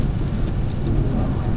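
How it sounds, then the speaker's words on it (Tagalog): Heavy rain drums steadily on a car during a drive, a dense, continuous low roar with no breaks and no voices. "Sobrang lakas ng ulan."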